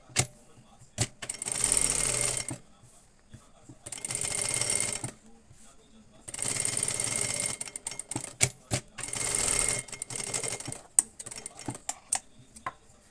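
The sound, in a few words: sewing machine stitching with needle and presser foot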